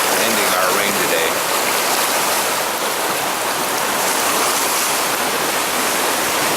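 Floodwater rushes loudly and steadily past a bridge abutment during flooding in Arvada, Colorado, a dense, unbroken roar of churning water that stays close and constant throughout.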